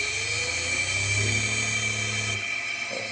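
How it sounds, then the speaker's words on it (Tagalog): An LG split inverter air conditioner's outdoor unit running its fan motor and compressor, a steady close mechanical whine with a low hum and hiss, dropping away sharply near the end as it shuts off. "let's work the outdoor fan motor and also the compressor"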